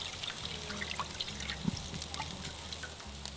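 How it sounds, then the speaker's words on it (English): Water poured into a hot pie tin on a grill for poaching grouper, a soft low trickle and splash under faint background sizzle, fairly quiet and close. "bit of water."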